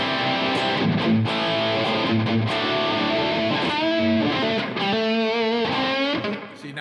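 Heavily distorted electric guitar from an Explorer-style guitar with a high-output Kramer-style pickup, played through a 5150-type amp, riffing loud and dense with sustained harmonic chords and a brief dip near the end, no talking.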